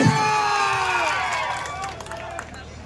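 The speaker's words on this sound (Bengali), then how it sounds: "তাই কালার্সের জন্য জোরসে একটা চিৎকার এবং হাততালি।" An audience at a dance academy event shouts and cheers loudly, with a crowd roar and scattered clapping that gradually fades, sounding close and dense.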